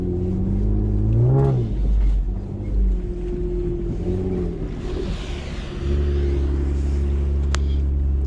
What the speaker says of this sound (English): Maintaining a slow speed and just allowing your suspension, the tires, and the transmission, everything all work together to get through it.